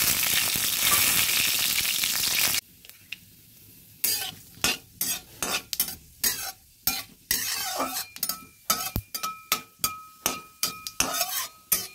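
Dried red chillies, bay leaves and panch phoron hit hot oil with a loud burst of sizzling, which drops away to a quieter fry punctuated by repeated sharp scrapes and clicks of stirring.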